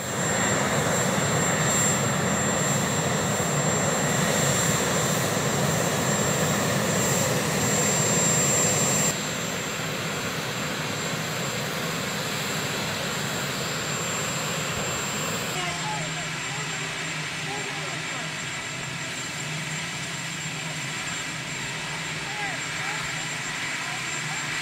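Steady roar of a helicopter engine with a thin high whine, loud at first, then dropping to a softer rumble, with voices speaking over it.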